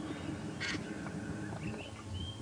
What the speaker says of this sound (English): It's a Rhett's helmet shrike.